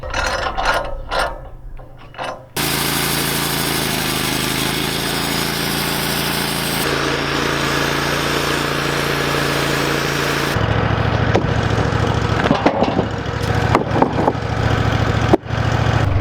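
A sawmill engine drones loud and steady as the blade makes a final squaring cut on the bottom of a log cant for timber framing, with the pitch shifting partway through, then clanks and mechanical knocks near the end.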